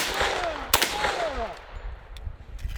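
Target shooting: one loud, sharp gunshot crack rings out early, followed later by a couple of much fainter, short reports over a steady outdoor hiss.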